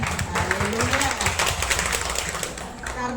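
Church congregation clapping in a dense, rhythmic patter of many hands that continues throughout, with a voice speaking over it.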